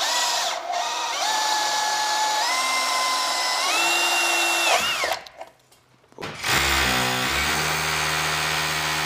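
A power drill bores into a gypsum plaster ceiling moulding, through a decorative flower petal, starting at an angle and then straightening. The whine is loud and continuous with shifting pitch, cuts out briefly near the middle, then resumes at a lower, steadier tone.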